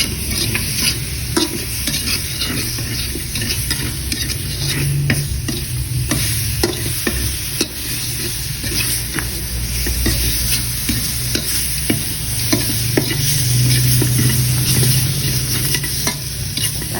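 Ingredients stir-frying in a pan for Lao bamboo shoot curry, a continuous close sizzle with repeated scraping stirs and clatter throughout, no talking.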